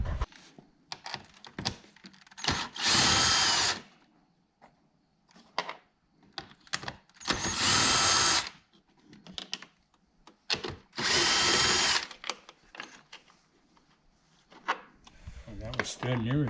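A power drill cuts holes in a C7 Corvette to mount a ZR1 wing, sounding in three long loud whirring bursts separated by clicks, handling noises and someone talking.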